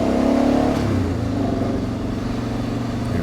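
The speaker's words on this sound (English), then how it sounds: "I was downshifting there and ended up in neutral right as I was into that turn" A car engine works through a downshift on a twisting mountain road through a village on Corfu, its revs rising and then settling into a steady mid-pitched drone, close and fairly loud.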